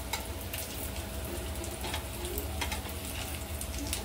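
Prawn cutlets shallow-fry in oil in a pan, a steady, dense sizzle with crackling bursts that runs unbroken and close throughout, with no voices.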